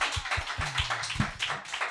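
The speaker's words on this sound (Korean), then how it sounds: "우리 박수 한번 쳐줄게요" A church congregation claps hands at a New Year fasting prayer meeting, a loose burst of overlapping claps with some heavier rhythmic beats underneath, moderately loud and without talk.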